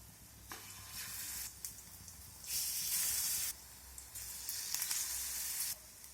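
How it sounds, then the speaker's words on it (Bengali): Batter-coated bread slices frying in a frying pan on a gas stove, giving a steady close sizzle that swells louder in bursts as pieces are added, with no talking. "এখন এই কেটে রাখা ব্রেড আমি একটা করে এর মধ্যে দিয়ে কোট করে নেব। তো এইভাবে কোট করে নিয়েছি। এবার ওই ফ্রাইং প্যানের মধ্যে দিয়ে দেব।"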